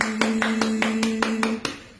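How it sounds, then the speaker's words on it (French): Crisp hand claps land in an even rhythm, about eight in two seconds, close and fairly loud over a steady low hum during a live-streamed show. "On applaudit."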